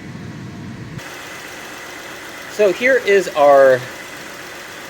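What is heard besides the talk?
car engine idling, 1991-1995 Acura Legend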